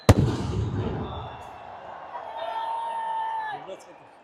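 Firecrackers go off at a ceremony at Imran Khan Cricket Stadium in Peshawar: one sharp, loud bang, then a fading crackle and a thin whistling tone, with someone speaking over a crowd.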